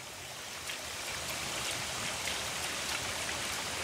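A shallow mountain stream flows steadily along a steep hiking trail, its broad, rushing wash of water continuous and fairly close with no voices over it.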